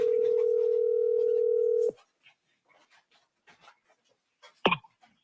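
Steady telephone dial tone sounds loud and close for about two seconds while a call back is placed, then cuts off, leaving faint rustles and a sharp knock near the end.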